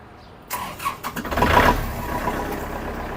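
A 2012 Kubota 47 hp tractor engine cranks with a few quick clicks and catches, then settles into a steady, fairly loud idle nearby with no talking.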